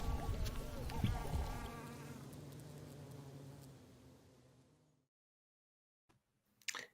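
Bees make a buzzing, droning hum that is strongest at first, then fades out and drops to near silence, followed by a few faint ticks and a short burst at the very end.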